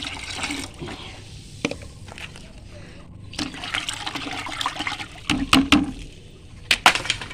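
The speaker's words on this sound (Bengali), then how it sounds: "এখানে ফাইভ লিটারের মতো জল ওয়ান টু ফাইভ অনুপাতে মিশিয়ে দিলাম" Liquid plant fertilizer being mixed with about five litres of water on a rooftop garden, giving intermittent pouring, trickling and splashing sounds in irregular bursts, louder near the end.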